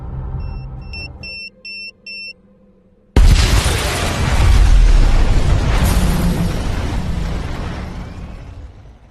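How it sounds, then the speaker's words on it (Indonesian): A parked luxury car at the roadside explodes in a film scene: four short electronic beeps, then a sudden loud blast that rolls into a long, heavy rumbling roar slowly fading away. "sebuah mobil mewah terparkir di pinggir jalan sebelum pada akhirnya meledak"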